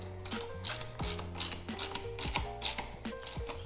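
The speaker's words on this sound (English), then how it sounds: "Let's go ahead and tighten that up" Plumbing parts are tightened onto a custom motorcycle headlight mount with a ratcheting tool, making a rapid series of close mechanical clicks that come in short bursts.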